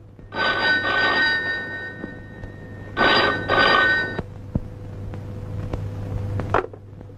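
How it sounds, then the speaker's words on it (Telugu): A telephone bell rings in two bursts of repeated trills, fairly close and loud, with a low steady hum underneath and no voices. "ఫోన్ రింగ్ అవుతుంది కానీ ఎవరూ తీయటం లేదు"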